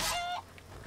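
A brief chicken cluck from the Skyrim video game, a short bright squawking call that drops off quickly over a low background hum.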